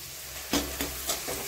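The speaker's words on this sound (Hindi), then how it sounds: "अब इसमें इसको हम छौंक देते हैं।" Potatoes hit hot oil while being tempered for a methi and dill potato dish, giving a close, loud sizzle with a few quick stirring scrapes over a short stretch.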